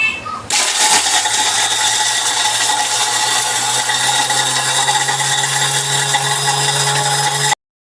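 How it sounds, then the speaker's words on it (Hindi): A kitchen grinder crushing hard seeds with rock sugar crystals starts abruptly, then whirs in one loud, steady, high-pitched grinding run for about seven seconds before cutting off. "अब हम इसको कर लेते हैं ग्राइंड"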